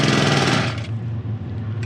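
A faulty gasoline pressure washer engine that starts and then dies gives a loud buzzing run that drops off abruptly partway through, leaving a lower fading rumble.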